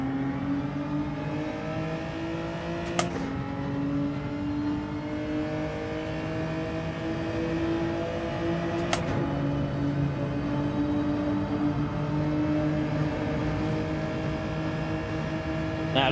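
A race car engine in Gran Turismo 7 drones loudly and continuously, its pitch rising and falling gently through corners, with two short sharp clicks along the way.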